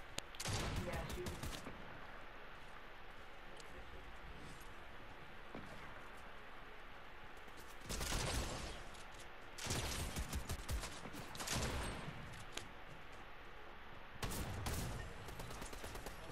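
Bursts of video game gunfire crack out in several loud rapid volleys, near the start, around eight and ten seconds and near fourteen seconds, over a low steady game background.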